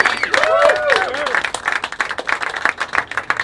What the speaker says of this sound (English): Give them another round of applause there, folks.